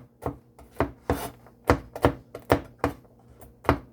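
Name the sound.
chopping toasted walnuts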